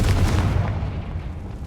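A Confringo fire-blast spell from the Hogwarts Legacy video game goes off as a loud, low booming burst that rolls and fades over under two seconds, with no one talking.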